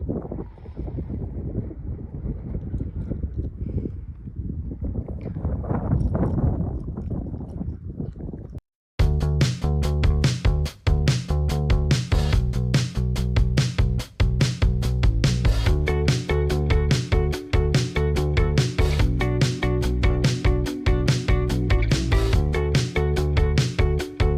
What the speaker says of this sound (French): parce qu'il y a tellement de vent